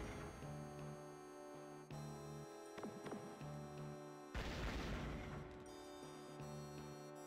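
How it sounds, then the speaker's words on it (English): Explosions in the video game Wild Arms: a loud, broad crash bursts out mid-clip and rumbles on for about a second over steady game music, with smaller impacts before it. "Explosions!"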